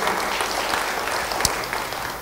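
Church congregation clapping together after a pastor's call, a broad steady wash of hands for about two seconds with one sharper clap standing out near the end.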